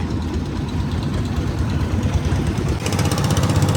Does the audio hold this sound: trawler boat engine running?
yes